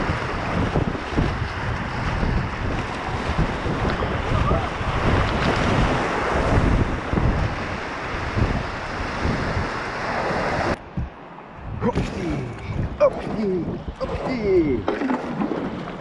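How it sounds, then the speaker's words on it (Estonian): Waves slapping and wind buffeting the microphone during a sea kayaking outing, a loud continuous wash that drops out briefly near the end before splashes and faint voices return. "See on see laine siin, eks ole?"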